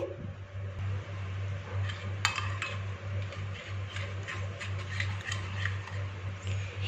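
Chicken being mixed with tikka masala, chili sauce and soy sauce in a bowl gives repeated light clinks and scrapes of a utensil over a constant low hum, close and steady with no talk.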